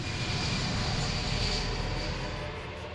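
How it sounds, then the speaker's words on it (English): A chartered passenger plane bound from Mombasa to Israel roars steadily on takeoff, a loud, continuous broadband engine rush that holds for several seconds with no voices. "a chartered passenger flight from Mombasa to Israel takes off carrying 200 holidaymakers"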